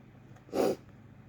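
A single short, breathy sneeze bursts out, moderately close, with quiet background before and after.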